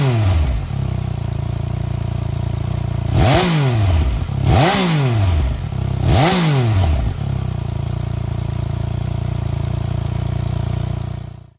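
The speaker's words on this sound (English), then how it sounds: "here it is starting to get the full belt of that triple engine" A Triumph Speed Triple RR's triple engine idles loudly up close, then blips through three sharp revs that rise and fall, before settling back to a steady idle.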